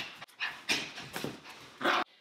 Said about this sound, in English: And Pashi is my doggy.